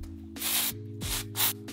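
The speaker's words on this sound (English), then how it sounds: "So I'm gonna take a dry shampoo and just spray it throughout my root and soak up some of the excess oils." Dry shampoo sprayed onto hair roots in three short hissing bursts from an aerosol can, close and fairly quiet, over a steady low hum.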